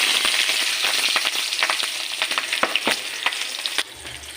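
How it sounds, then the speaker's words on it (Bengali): Whole cumin, green chili, bay leaf and garlic sizzle loudly in hot oil in a wok, with crackling pops and spatters over a steady frying hiss, easing off near the end. "কড়াইতে তেল নিয়েছি, তেল গরম হয়ে গেছে। এবার ফোড়নগুলো দিয়ে দেবো।"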